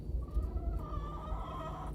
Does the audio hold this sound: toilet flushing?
no